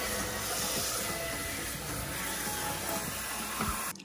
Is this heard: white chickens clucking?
no